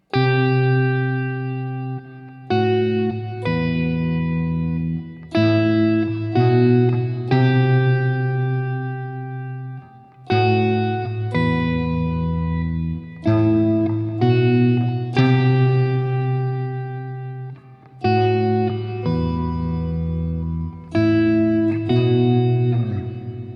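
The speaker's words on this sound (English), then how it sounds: "So once more with some reverb." Strummed guitar chords ringing out in repeated bursts with short breaks between them, bathed in noticeable reverb; no voices, steady and fairly loud.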